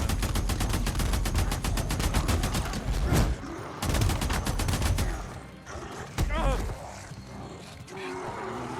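Rapid bursts of automatic gunfire from the zombie-survival video game Days Gone, fired at a horde of undead, loud and rhythmic with brief pauses, a roar-like creature cry in the mix and music beneath.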